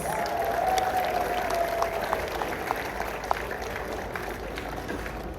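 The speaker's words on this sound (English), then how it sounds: "Please give them another warm round of applause." Applause from a ceremony audience at a university convocation after a performance, a steady, somewhat distant wash of clapping with a faint tone running briefly early on.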